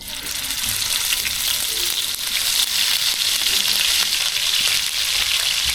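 Ground onion paste frying in a pan, with a continuous, fairly loud hiss of bubbling and sizzling and a few faint clicks of stirring.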